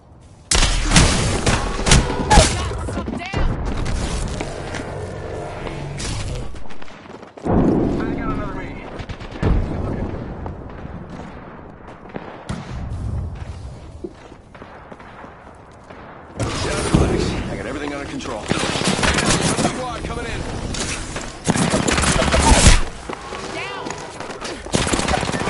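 Gunfire in a shooter video game: bursts of rapid automatic shots and loud booms, dense and close, broken by quieter gaps, with players' voices talking over the action.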